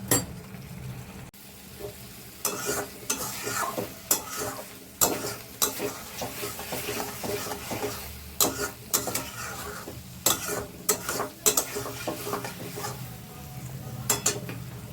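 Chicken pieces sautéed in a pan while a spatula stirs and scrapes them, irregular loud clatters and scrapes over a continuous sizzle, close and busy throughout.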